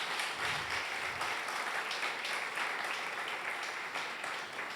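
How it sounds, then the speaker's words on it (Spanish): A church congregation at a family worship meeting gives sustained applause to the Lord, a dense, steady wash of clapping that fills the room for the whole stretch. "Le damos un fuerte aplauso al Señor por esto"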